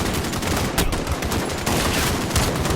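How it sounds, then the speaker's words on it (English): Continuous heavy gunfire during an embassy mission in the Modern Warfare video game, a loud, dense stream of rapid automatic shots and overlapping blasts with no pauses throughout. "Just pretty much now you may as well get firing at anyone you see"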